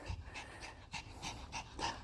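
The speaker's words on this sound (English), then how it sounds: "She's the mama dog." A mother dog pants close by in quick rhythmic breaths, about ten short puffs in a steady series, fairly faint with no talk.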